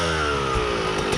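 A motorcycle engine revs steadily and loudly close by for a moment, a rising harmonic drone with a buzzy, saw-like edge as the throttle is feathered.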